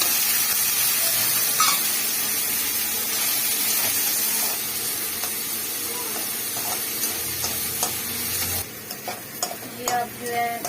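Tomatoes dropped into masala frying in a pan for macaroni, giving a steady close sizzle with stirring scrapes throughout, the hiss flaring then settling near the end.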